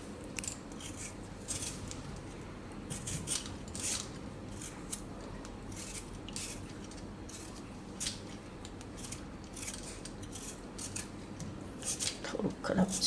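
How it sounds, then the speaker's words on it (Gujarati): A potato is peeled by hand in a home kitchen, giving a quick series of short scraping strokes at close range, with a voice talking over parts of it. "તો બટેટાને આપણે આ રીતે છાલ કાઢી નાખશું."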